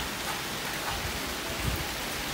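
Light rain falls steadily on a rainy day, a soft, even hiss of fine drops with faint patter and no voices.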